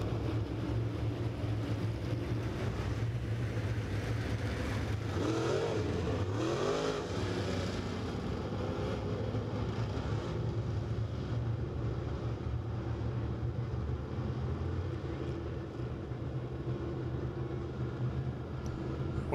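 Late model race cars roar around the Lake Ozark Speedway track, a steady, loud engine drone that swells as cars pass, with no talk over it.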